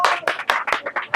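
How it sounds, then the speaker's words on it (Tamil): Guests clapping at a traditional engagement ceremony, a short burst of about six distinct, close claps in a quick, slightly uneven rhythm. "கைத்தட்டு கைத்தட்டு."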